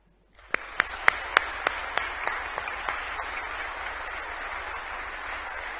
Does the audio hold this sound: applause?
yes